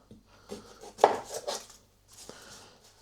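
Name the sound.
knife chopping the ends off onions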